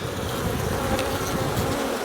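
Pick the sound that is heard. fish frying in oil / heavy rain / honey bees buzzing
honey bees buzzing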